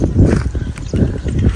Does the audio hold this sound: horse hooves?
yes